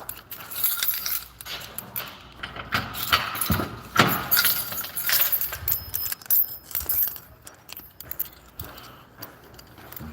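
A bunch of keys jangles and clinks repeatedly through the clip, close and fairly loud, with scattered metallic rattles and no clear speech.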